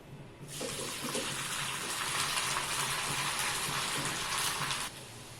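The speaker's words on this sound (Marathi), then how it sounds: "आवाज तुम्हाला येतोय ना अशा सगळ्या नूडल्स आपण तळून घेऊया" Noodles deep-frying in hot oil for a restaurant-style veg manchow soup, a loud steady hiss and crackle that starts abruptly, holds evenly for about four seconds, then cuts off.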